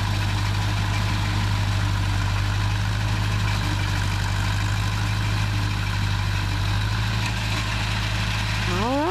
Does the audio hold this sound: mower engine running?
yes